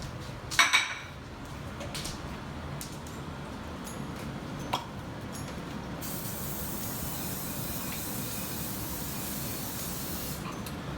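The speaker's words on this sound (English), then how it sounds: "I'm gonna bring them over to sear off, and I'm gonna cook them in some coconut oil" Fish seared in coconut oil in a pan, giving a steady broad sizzling hiss that runs throughout, with a few sharp clatters near the start and a brighter hissing layer joining partway through.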